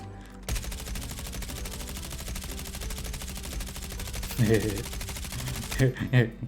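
Rapid automatic gunfire from the Call of Duty Mobile video game rattles steadily for several seconds, with a few heavier bursts near the end, loud and close in the mix.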